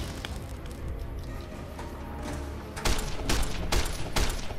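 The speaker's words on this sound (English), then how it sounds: "Goddamn range attack from scorpions!" Robot scorpions in Fallout New Vegas fire a ranged attack: a rapid burst of sharp, crackling shots erupts loudly after a stretch of rumbling game noise, repeating in quick succession.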